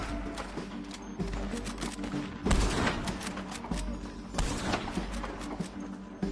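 Dense, overlapping gunfire from a Red Dead Redemption 2 shootout, with repeated sharp shots and a few heavier bursts over a steady background of game ambience and music, fairly loud and continuous throughout.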